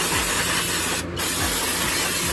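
Aerosol spray cleaner hissing in two long, loud close bursts with a brief pause between, aimed at a brake caliper on a 2006 Honda Civic Si during a front rotor and brake job.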